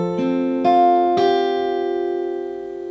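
Clean guitar notes from the Far Cry 5 theme picked one after another near the mic, three plucks whose tones ring on together and slowly fade.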